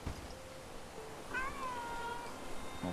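A cat meows in the medieval survival city-builder game Bellwright, one drawn-out call near the middle of the stretch, set over a steady low background ambience with no talking.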